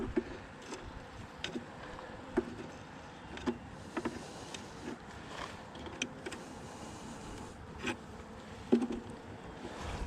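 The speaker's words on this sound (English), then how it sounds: "let's just get these bees into the top of the hive here." Honey bees buzz around a hive as a nuc is installed outdoors, a low steady drone with occasional louder passes of individual bees close by, plus a few soft knocks of frames and wood.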